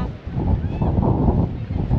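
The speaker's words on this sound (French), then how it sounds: "il y a beaucoup de vent" Strong wind buffets the microphone in a constant low roar with gusty swells and no clear voices, in Morocco.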